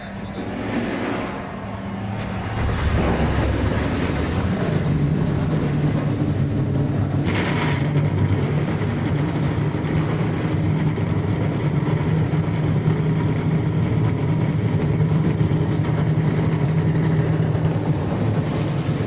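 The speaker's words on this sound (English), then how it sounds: "Drivers, start your engines!" Race truck engines fire up at the 2013 Ford EcoBoost 200 season finale, a quiet opening swelling into a loud, steady, sustained roar of many engines idling and revving together, with no talk over it.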